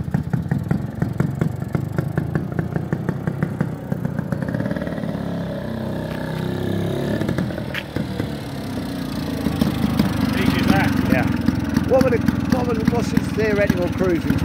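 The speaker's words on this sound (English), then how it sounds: "clutch out, decompressor in, bit of throttle." A 1951 James Superlux 98cc two-stroke autocycle engine being started and kept running, with rapid popping exhaust beats that settle into a steady buzzing run and rise with throttle, while people talk nearby.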